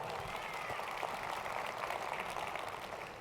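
A crowd at a Jeunesse business event in Melbourne gives a round of applause, a dense continuous patter of many hands, fairly close and even, with faint voices mixed in.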